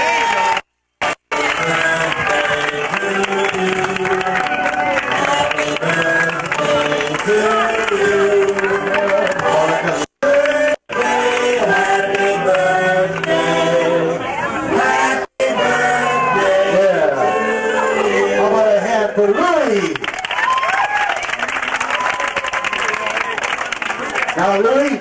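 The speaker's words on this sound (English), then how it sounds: "How about a nice round of applause?" Party crowd at a birthday celebration claps and cheers loudly over lively music, with voices calling out throughout, sustained for the whole stretch apart from a few brief dropouts.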